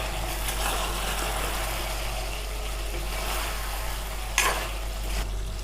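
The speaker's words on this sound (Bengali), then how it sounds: "পুরো ভাজা হয়ে গেছে, দেখুন তেল ছেড়ে দিয়েছে। একটু নাড়ব।" Masala for cauliflower korma frying in oil in a pan as it is stirred: a steady, close sizzle with a brief scraping stir near the end.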